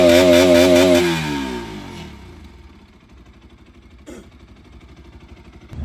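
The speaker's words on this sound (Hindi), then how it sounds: "अब फुल आरपीएम दे रहा हूँ" A motorcycle engine is revved hard for about a second, a loud rising whine that then drops away and settles back to a low, rumbling idle.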